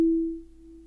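The third harmonic of a musical note, filtered out on its own, rings as a single pure steady tone, clear and alone, slowly fading slightly over under a second.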